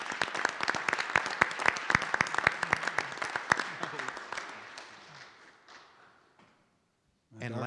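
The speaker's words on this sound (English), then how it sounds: "Can we give a round of applause to Finley and the Goldens?" A round of applause fills the room at a school board meeting, with many hands clapping fairly close and steadily before thinning out and fading, then a voice resumes speaking.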